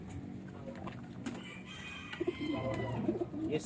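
Racing pigeon cooing inside a loft: soft throaty coos start after a quiet stretch, then come in close, repeated bursts over faint background noise, with no talking.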